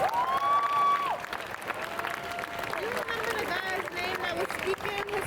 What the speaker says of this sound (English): Let's have another round of applause for Amara.